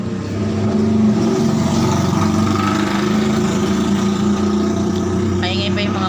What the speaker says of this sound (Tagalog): paingay pa yung mga motor.